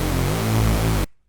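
A white noise layer in a Phase Plant synth patch, a dense steady hiss blended with a low sustained tone for about a second before it cuts off abruptly into silence.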